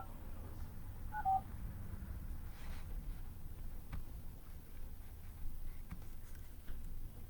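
Telephone keypad tones sound as a number is dialed, a short, faint burst of beeps early on over a quiet background hum.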